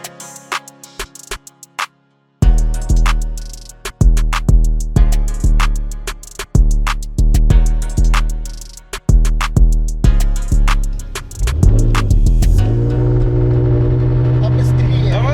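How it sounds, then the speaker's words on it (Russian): A powerful American Cadillac CTS-V launching in a drag race, its engine revving hard through a series of rapid bursts and gear changes before settling into a sustained loud roar, with people talking and shouting over it. "готовим на старт мощный американский Cadillac CTS-V"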